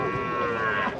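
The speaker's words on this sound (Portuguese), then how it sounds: "Esse é o bezerro dela, pessoal." Calf mooing at a cattle fair in Tabira, Pernambuco, a single close, sustained low bellow filling the whole second with no talk over it.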